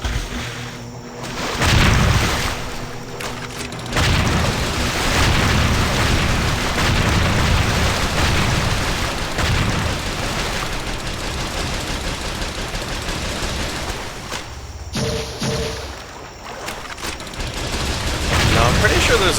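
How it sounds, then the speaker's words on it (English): Rapid Gatling Spear strikes from Ryu against jellyfish enemies in Ninja Gaiden II, a dense, loud, continuous barrage of impacts and booming hits lasting throughout, with brief dips before resuming. "we're just going to spam the Gatling Spear"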